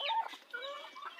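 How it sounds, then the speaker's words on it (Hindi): Pet chicks pecking at noodles, giving a few soft, high clucks and chirps close by, quiet and brief. "ये देखें हमारे पेट्स चिक्स हमारे बड़े मज़े से नूडल्स खा रहे हैं"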